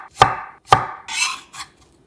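A knife slices two whole garlic cloves thinly on a cutting board, giving two sharp close chops followed by two softer scraping slices, with no talking.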